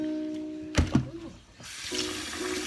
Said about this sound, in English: Okay, so we're now gonna rinse the noodles.